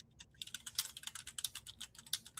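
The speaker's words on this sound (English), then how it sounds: "I can hear her typing away." Rapid typing on a computer keyboard, a steady run of crisp, closely spaced key clicks at low level with no voices over it.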